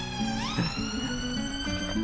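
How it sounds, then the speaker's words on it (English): Ambulance siren on a UK road, heard from inside a van, its rising and falling wail sweeping loudly and continuously over low road rumble. "The ambulance, okay."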